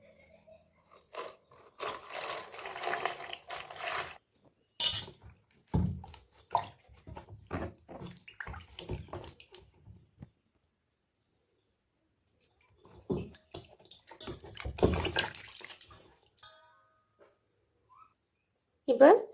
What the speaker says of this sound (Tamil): இதை சுத்தமாக கழுவிக்கலாம்.